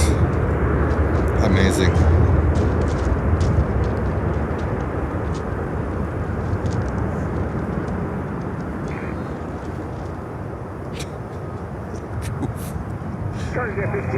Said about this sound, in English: See the reverser, the reverse thrusts.